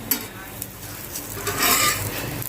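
A chapati brushed with oil on both sides sizzles on a hot tawa, making a steady close hiss that swells louder toward the end, with a couple of light scrapes.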